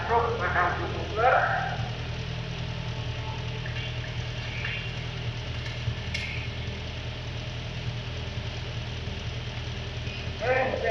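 A truck engine idles steadily through an exhaust emission test, a continuous low rumble running the whole way with brief bursts of talk at the start and end.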